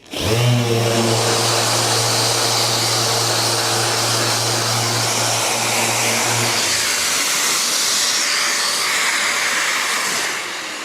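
A disc sander whirs loudly and steadily up close, its motor hum changing pitch partway through as it grinds against a Land Rover Defender 110 door panel.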